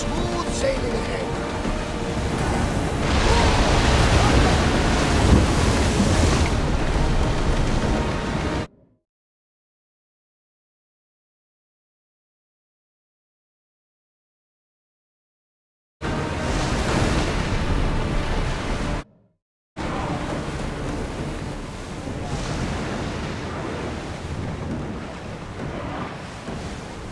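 A ship sails over ocean waves in Assassin's Creed Odyssey, a loud steady rush of water and wind that drops to silence midway before resuming.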